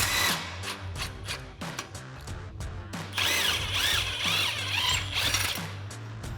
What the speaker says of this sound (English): Next, we can remove our lower shock mounting bolts, again with our 18 millimeter socket on our impact and an 18 millimeter wrench.